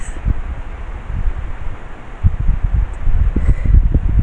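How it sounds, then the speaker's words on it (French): Wind blowing hard into a microphone outdoors, a loud steady roar with low gusty buffeting throughout, papers rustling faintly underneath and no talking. "Je perds mes papiers, il y a du vent."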